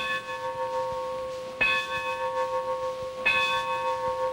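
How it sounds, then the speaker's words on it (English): The Get Well Bell rings twice on a children's TV show, each strike a clear, resonant bell tone that rings on and slowly fades, with a steady tonal hum underneath. "here comes the Get Well Bell"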